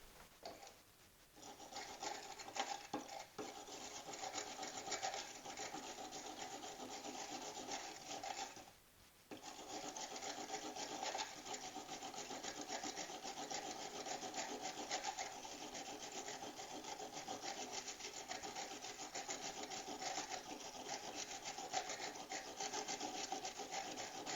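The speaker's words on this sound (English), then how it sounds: "The steel brush took most of it off" Steel brush scrubbing tarnished contacts on a faulty Jeep Wrangler third brake light, a steady close rasping scrape that runs almost without break, with one short pause partway through.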